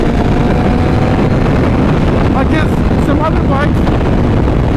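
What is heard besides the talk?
strong wind on the microphone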